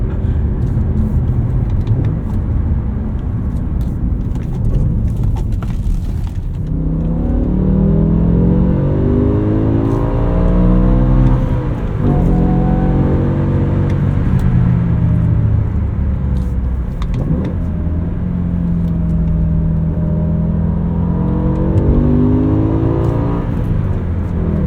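BMW M5 E60 with its V10 engine and 6-speed manual gearbox, heard from inside while driving: a loud, continuous engine drone that rises and falls through several rev sweeps and gear changes, with no talking.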